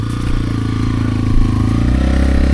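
A motorcycle rides on a snowy, slippery road in Kashmir; its engine drones loud and close with rattling clatter, rising slightly in pitch as it goes.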